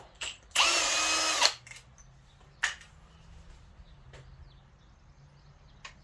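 A power drill whirs in one loud burst of about a second while removing engine bolts during a 2.5 Duratec engine swap on a ZX4 ST Ford Focus, followed by a few sharp metallic clicks in a quiet garage.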